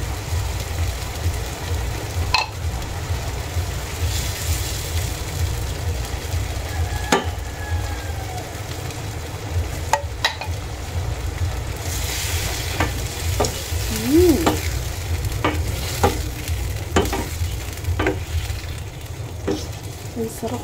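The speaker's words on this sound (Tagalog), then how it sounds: "Yan guys, atin na pong ilagay itong sardinas." Sardines frying and being stirred into sautéing squash in a pan, a steady sizzle with occasional scrapes and clicks of a utensil, close by, alongside a low hum.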